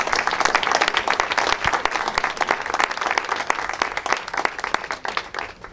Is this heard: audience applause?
yes